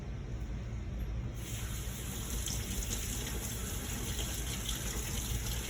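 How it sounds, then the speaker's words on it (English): Steady running water from a tap pours over asparagus in a colander, a continuous close splashing gush with no talk. "I'm just gonna lightly rinse them off in this bowl with holes"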